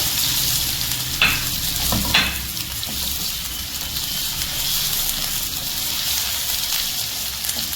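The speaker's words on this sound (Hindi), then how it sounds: "सबसे पहले हम इसमें ज़ीरा डालेंगे, थोड़ा सा क्रैकल आ जाए" Steady crackling sizzle of cumin seeds frying in hot oil, close and continuous, with a couple of brief clinks partway through.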